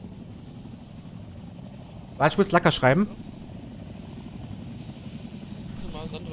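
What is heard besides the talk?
helicopter flying in video game Arma 3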